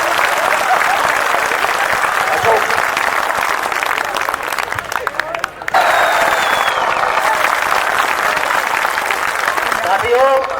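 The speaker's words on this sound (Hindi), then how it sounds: "एक बार जोरदार तालियां बजाओ उनके लिए।" Loud, sustained applause from a large crowd at a civic welcoming reception, steady and close throughout with a brief dip midway before swelling again.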